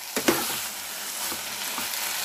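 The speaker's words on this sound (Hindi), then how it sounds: "देसी घी डालकर भी हम इसको अब थोड़ी देर और भूनेंगे।" Something roasting in desi ghee in a pan gives a steady, bright sizzle throughout, with a couple of soft scraping stirs near the start, close and without any voices.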